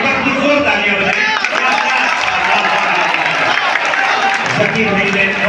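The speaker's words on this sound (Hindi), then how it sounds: "एक बार कुछ और तालियां बजाएं।" An audience claps at an Urdu poetry gathering in Deoband, a loud sustained patter of applause blended with crowd noise and a voice speaking over it.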